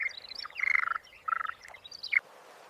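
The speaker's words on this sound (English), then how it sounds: "The chirping and constant splashing of the males attracted some unwelcome guests." Bursts of rapid, high-pitched chirping calls from male frogs, several trills in quick succession, fairly close and clear.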